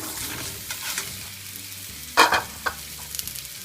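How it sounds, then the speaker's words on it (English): Drained potatoes tipped into hot turmeric and red chili masala in a wok, with a sudden loud sizzle burst midway over a quieter background fry and a few stirring clinks after. "Now time to add the drained potatoes."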